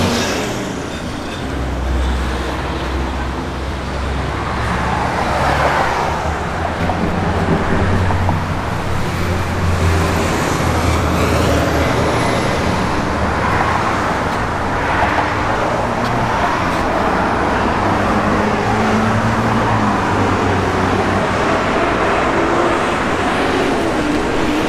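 A 1972 Plymouth Duster with reworked suspension cruising on the road, steady engine drone and tyre and road rumble held at an even level throughout, with no talking.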